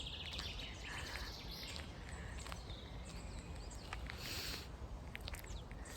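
Birds chirp and sing softly in a park, with scattered tweets over a faint, steady outdoor hush and occasional light footsteps.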